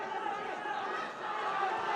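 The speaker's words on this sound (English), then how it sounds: "Crowd and his corner going crazy as they could feel the triangle coming" Crowd and a fighter's corner roar wildly at a bantamweight MMA bout inside the cage, a dense, steady wash of shouting and cheering that holds loud throughout with a brief dip midway.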